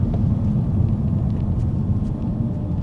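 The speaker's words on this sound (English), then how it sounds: "just doing this downshift and doing this pull" A Porsche engine pulls through a downshift and acceleration, heard as a steady, loud low rumble from inside the car that holds an even drone throughout with no clear rev changes.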